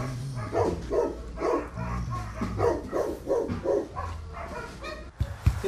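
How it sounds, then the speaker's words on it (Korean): A dog playing dead gives a run of rhythmic whimpering, yelping vocal sounds as a dramatic effect, close and fairly loud, followed by a few thumps as it drops. "보통 개들이 죽을 때 그냥 바로 넘어가기만 하는데 우리 떡대는 효과음을 내면서 넘어갑니다"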